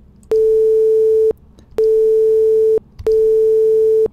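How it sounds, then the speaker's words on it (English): A 440 Hz sine wave reduced to 8 bits sounds as three steady beeps of about a second each, separated by short gaps, loud and clean with faint buzzy quantization artifacts. "Here we have that same sine wave reduced to 8 bits."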